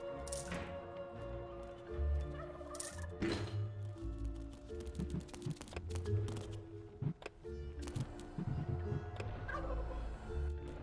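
Chickens in the video game Dungeons 3 cluck and gobble in scattered bursts over a low, busy game soundscape with occasional cracks and thuds, all fairly faint.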